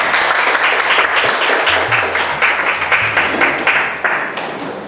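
An audience at a community meeting applauds loudly and steadily for several seconds, a dense wash of many hands clapping close by, with a faint voice underneath.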